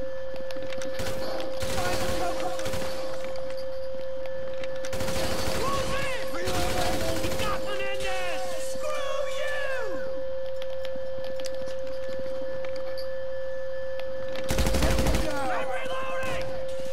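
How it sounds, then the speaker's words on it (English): Automatic gunfire from a machine gun in Grand Theft Auto V comes in three loud, rapid bursts spread across the stretch, with someone talking between them over a steady in-game hum. "stick to the special carbine, like, this machine gun right here"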